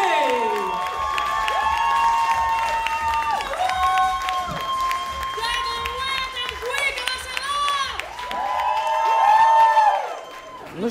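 Live audience cheering, whooping and clapping for a singer, loud and sustained with tonal sung or shouted voices riding over the crowd noise before it fades near the end.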